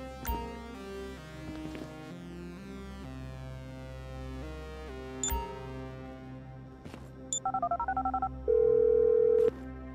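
A phone call placed in the video game GTA V, with steady keypad dialing tones and rising beeps, then a long sustained ring tone over a music-like background bed, moderately loud.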